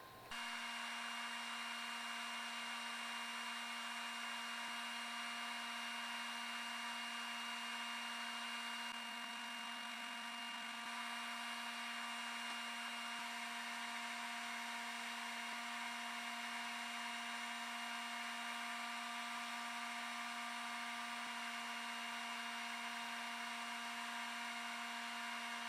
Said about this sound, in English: So what I actually use is just a heat gun.